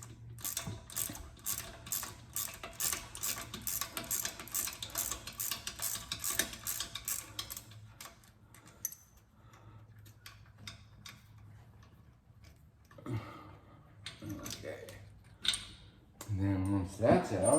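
Repeated ratchet clicks come up close while the locking pin bolt is removed during a Ford Mustang gear swap, a fast, steady ticking that pauses, then resumes in short bursts alongside clanks of tools.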